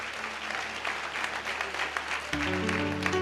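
An audience claps together at a church gathering, a dense continuous applause that grows fuller and louder toward the end while a low hum sits underneath.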